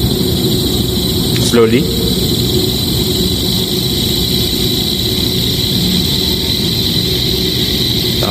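A fluid mechanics lab machine, being brought up to about 1000 rpm, hums loudly and steadily throughout, with a brief spoken word near the start.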